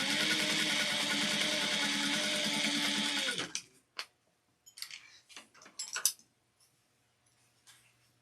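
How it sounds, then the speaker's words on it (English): A sewing machine stitches a fabric slip pocket for a clutch bag in one steady, loud run for about three seconds, then stops, followed by faint handling clicks and rustles. "put them right sides together, and I'm going to sew 3/8 of an inch, a half, 1/4 of an inch on both sides."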